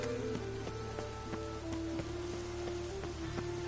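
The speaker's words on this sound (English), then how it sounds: "And it's raining again." Rain falls steadily and softly, a faint, even patter of drops on a surface with occasional louder ticks and a low hum beneath.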